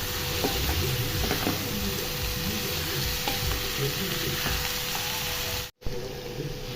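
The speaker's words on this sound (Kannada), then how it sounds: "ಎಣ್ಣೆಯಲ್ಲಿ ಕಾಲಿಫ್ಲವರ್ ಕೂಡ ಫ್ರೈ ಆಗಿದೆ" Cauliflower sizzles and fries in hot oil while being stirred in a pan, a steady, close crackling hiss that runs continuously before a brief cut near the end.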